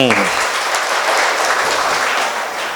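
Sustained audience applause fills a debate hall at a lively Tamil comedy debate event, broad and steady throughout after a brief voice at the start, fading slightly at the end.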